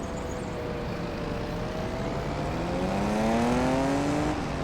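A custom car engine sound in a Farming Simulator map plays as a steady, continuous engine drone that slowly rises in pitch as it accelerates over nearly five seconds, with no talking.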